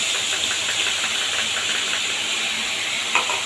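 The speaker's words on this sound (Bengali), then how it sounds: "এবার ওই তেলেই ফোড়নে দিয়ে দেবো কালো জিরে আর পেস্ট করে রাখা মশলাটা পুরোটা দিয়ে দেবো" Black cumin seeds and a ground spice paste hitting hot oil while a Bengali fish curry is made, giving a loud, steady close hiss of frying with a brief clink near the end.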